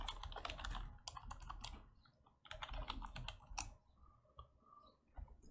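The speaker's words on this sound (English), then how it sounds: "Let me type this in" Fingers type on a computer keyboard in quick bursts of close clicking keystrokes, with short pauses between runs, fairly quiet and with no voices.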